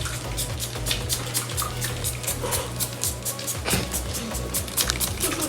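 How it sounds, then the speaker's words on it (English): A handheld spray bottle mists water onto a pair of shoes in a home, a rapid series of short, even hissing squirts close to the microphone. "I'll spray them a little bit."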